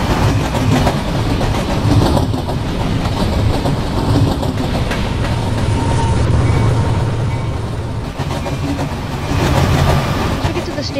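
A TRE commuter train rolls along rails in the Roblox train game, a steady loud rumble with repeated clickety-clack wheel beats running through the whole stretch.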